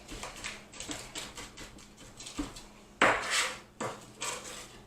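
A knife blade scrapes and taps rhythmically against a cutting board as garlic is mashed with salt into a paste for keto garlic bread, with a run of quick close strokes and one louder, harsher scrape partway through.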